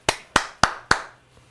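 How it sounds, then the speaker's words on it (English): Four sharp hand claps in an even, quick rhythm, close and crisp in a quiet room, made beside a young Australian Labradoodle puppy. "We'll do the little clapping test"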